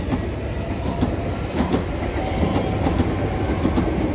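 Stockholm metro train rolling past in a residential area, a continuous rumbling roar with rhythmic clickety-clack of wheels over rail joints, fairly close and steady throughout.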